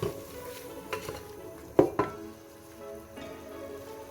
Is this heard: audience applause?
no